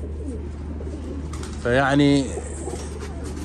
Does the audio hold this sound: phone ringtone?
no